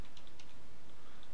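A few quiet, quick keystrokes clatter on a computer keyboard while a switchport command is typed, sounding close and light against a faint background hiss.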